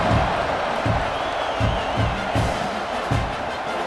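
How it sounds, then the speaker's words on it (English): A dense, steady roar from a stadium crowd in EA Sports College Football 26 fills the whole stretch. A rhythmic pulsing, like chanting or a drum beat, runs underneath. "this crowd is buzzing after that last score"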